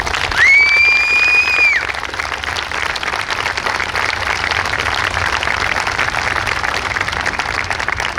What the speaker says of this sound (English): we think it's those guys that deserve a real round of applause this afternoon